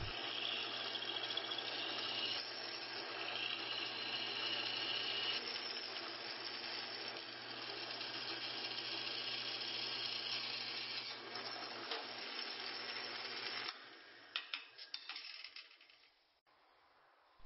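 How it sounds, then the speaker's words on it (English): A drill with a 1/8 inch bit bores holes in aluminum plates for a Ninja 250 luggage rack, giving a steady, continuous whirring hum for most of the stretch, then breaking into a few brief irregular bursts before fading. "Next, I'll drill all the holes using a 1/8 inch bit,"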